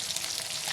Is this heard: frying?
yes